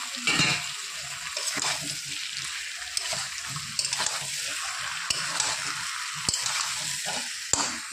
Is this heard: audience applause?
no